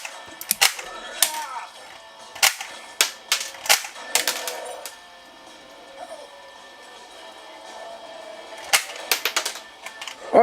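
Sharp mechanical clicks and snaps from a homemade gun controller with magazine reloading and shell ejection, fired in quick bursts with pauses, close and fairly loud, with brief talk between shots.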